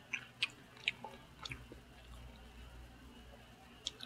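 Texas-style barbecue is chewed close up in a quiet room, with a few soft, wet bites and smacking clicks at irregular intervals, and faint low background noise beneath.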